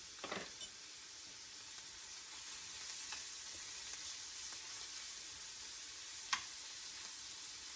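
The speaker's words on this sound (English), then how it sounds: "I'm just dropping my shrimp right in" Shrimp sizzle in a hot pan on the stove, a steady, fairly soft frying hiss broken by a few faint clicks and one sharper tap near the end.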